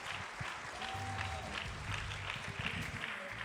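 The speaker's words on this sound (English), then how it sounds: "Can we please give a big round of applause for Leon Marshall?" Audience applause welcoming speaker Leon Marshall at a 2018 talk on the hidden science of Black hair, a faint, even patter of clapping over a low, sustained background tone.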